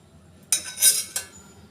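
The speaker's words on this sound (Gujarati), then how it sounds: "હવે આપણે તેની ઉપર કઢાઈ મૂકીએ છીએ" A metal kadhai is set on a gas stove, giving a couple of short metallic clanks and a brief scrape, close and distinct against near silence.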